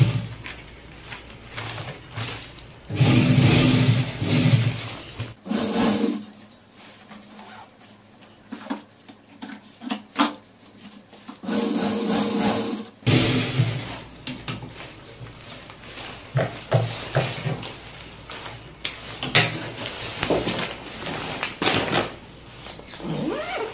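A domestic sewing machine top-stitches a zipper onto a storage bag sewn from an old salwar, with close motor whirring in a few loud bursts and quieter stitching between them.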